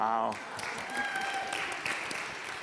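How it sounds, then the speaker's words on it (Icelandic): Congregation applauding during a church service, clapping rising after a brief spoken word and continuing moderately under faint background tones. "Ef við að klappa fyrir Óskari líka"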